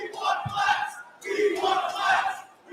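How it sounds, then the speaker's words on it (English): A wrestling crowd chants "we want glass" in loud, rhythmic group shouts, two phrases repeated in a big arena. "Are they chanting we want a glass?"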